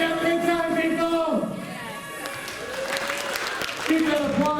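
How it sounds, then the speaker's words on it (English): An audience applauds the cast and crew at the finale of a Halloween Fright Fest scare show at an amusement park. The clapping and crowd noise run steadily beneath a speaking voice. "Keep that applause going for our cast and crew."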